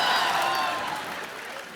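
A studio audience on The Kapil Sharma Show claps for the Kaabil team, a short, dense burst of applause that fades gradually.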